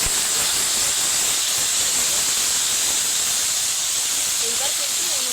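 Marinated chicken pieces hit hot oil in a pan, setting off a loud, dense, unbroken sizzle that holds steady throughout.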